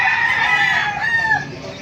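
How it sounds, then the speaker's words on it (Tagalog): A loud, close crowing call from a rooster, one long drawn-out cry with no talking. "Napakagandang hene oh."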